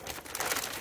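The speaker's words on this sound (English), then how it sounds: "I like to fold down the sides of the potting soil bag" The sides of a plastic potting soil bag are folded down, making a brief, close burst of loud crinkling and rustling plastic.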